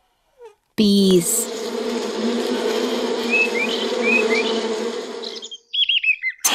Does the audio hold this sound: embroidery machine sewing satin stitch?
no